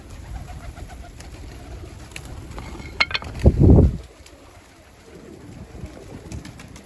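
Pigeons in an outdoor loft give a short, deep, throaty coo that rises loud and close for about a second, set against quiet background rustling.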